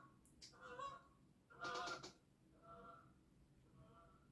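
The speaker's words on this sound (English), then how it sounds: "That was a bird. Weird noise." A few faint honking bird calls in quick succession, distant and somewhat goose-like, with quieter repeats trailing off.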